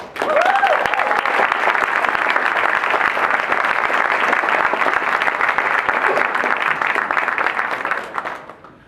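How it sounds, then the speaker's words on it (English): Sustained applause from an audience at a press conference for the MIFA International Bowl 2017 American football event, loud and steady for about eight seconds before tapering off, with no talk over it. "I'd like to give a big round of applause"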